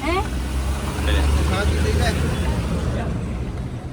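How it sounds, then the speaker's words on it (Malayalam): Riding in a small vehicle on a road trip through the White Rann of Kutch salt desert in Gujarat: a steady, loud engine and road rumble fills the cabin throughout, with a voice talking over it. "നമ്മളിപ്പോൾ ഒരു ചെറിയൊരു വണ്ടി കയറി"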